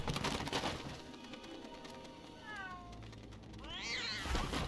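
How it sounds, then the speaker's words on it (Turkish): A cat meows in the video game LEGO Harry Potter Years 1-4. Two or three drawn-out, fairly faint meows sound over the game's background noise. "Lan git kedi."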